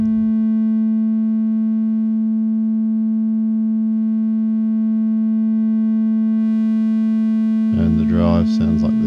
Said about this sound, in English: And the tone knob sounds like this.